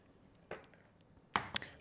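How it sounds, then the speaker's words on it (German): Eggs cracked into a bowl while mixing a quick yeast-free fitness bread batter: a soft tap, then two sharper close cracks near the end, each a brief crisp snap, with no talking. "Die Eier schlagen wir auf."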